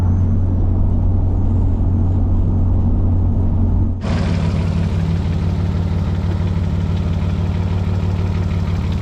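A Mazda HB 929 burnout car with a turbo idles loudly up close with a deep, steady rumble. About halfway through, the sound abruptly turns harsher and broader and stays that way to the end. No talking.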